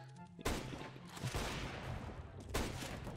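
Dense, loud gunfire rattles through a Counter-Strike: Global Offensive match, with sharp volleys at the start and near the end of a continuous barrage.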